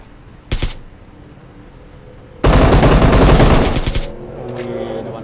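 Automatic gunfire in a video game, with a brief burst followed by a longer, louder sustained volley lasting over a second, then quieter crackles.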